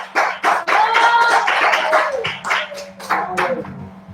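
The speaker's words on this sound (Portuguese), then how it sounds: "dar uma salva de palmas para Jesus" Church congregation clapping for Jesus during an evening service, uneven bursts of hand claps mixed with voices and a sustained low tone, close and fairly loud before tapering off.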